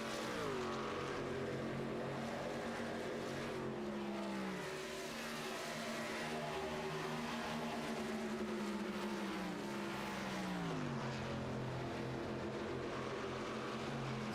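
Race trucks in a Charlotte 250 event roar around the track, their engine notes sweeping up and down as they pass, with a loud continuous racing drone throughout.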